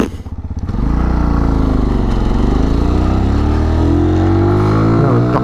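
A Magpower X-Trail 125cc motorcycle engine starts low, then revs up loud and close, its pitch climbing steadily as it accelerates.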